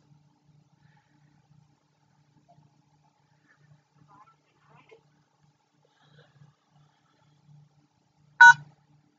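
Call-in phone lines being switched on produce one short, loud burst of dialing tones near the end, after several seconds of near silence with faint low hum.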